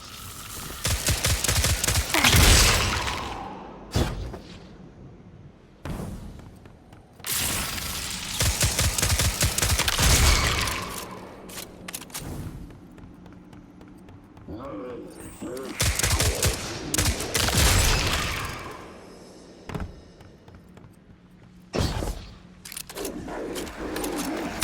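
Gunfire in the video game Destiny 2, with a solo hunter shooting at attacking moths: loud bursts of rapid shots and booms come in several clusters, separated by short quieter gaps.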